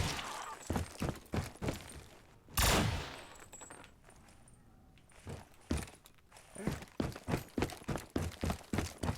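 Rapid pistol shots ring out in Black Ops 3 custom zombies, fired in quick bursts with one heavier blast partway through and short pauses between volleys.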